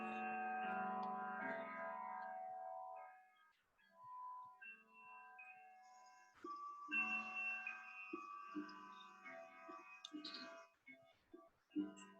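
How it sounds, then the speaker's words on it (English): A loud chiming house clock rings out in a home with several clocks. Sustained tonal chimes ring and decay, then a brighter series of struck tones with ticking accents follows, all alone without talking. "We've got multiple clocks in the house and they all chime."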